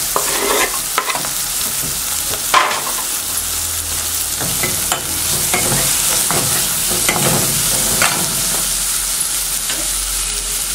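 Curry leaves and chopped onion frying in hot oil in a pan, a dense steady sizzle with crackles and occasional stirring scrapes, close and loud throughout.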